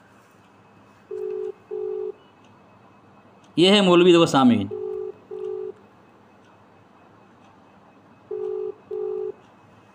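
A telephone call goes unanswered, the ringback tone sounding in short paired pulses at a steady rhythm, interrupted once by someone speaking loudly before the pulses resume.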